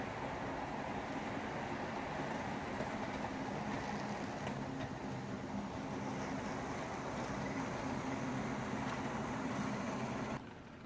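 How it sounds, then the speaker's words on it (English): Model train running steadily up a layout helix at an intermodal terminal railroad, a continuous close rumbling hum with a rolling rattle that holds even throughout before dropping off abruptly at the end. "And we've got the train moving."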